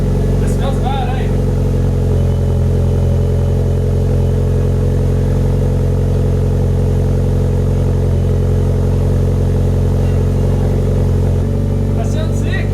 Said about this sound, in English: That sounds sick. That's how an Evo should sound.